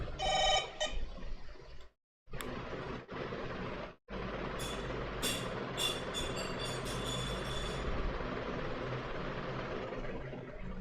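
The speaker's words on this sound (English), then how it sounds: "Okay, I forgot to silent my phone." A mobile phone rings with a bright, repeating electronic tone near the start, over the steady rumble of a moving train in the background.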